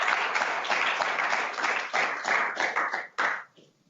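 Audience applause fills a board of regents meeting room, a dense patter of many hands clapping steadily for several seconds, then tapering off with a few scattered final claps.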